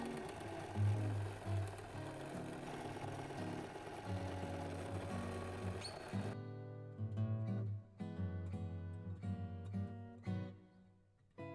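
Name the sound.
sewing machine sewing ribbon onto Christmas stocking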